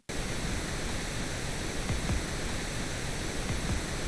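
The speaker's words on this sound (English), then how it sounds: "This is pink noise" A pink noise test signal starts abruptly and holds as a steady, loud, broadband hiss with a rushing, waterfall-like character, constant in level with no pauses or voices.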